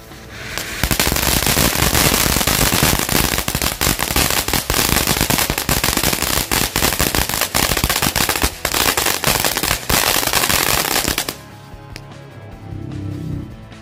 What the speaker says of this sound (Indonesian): Ini mercon air mancur super jet.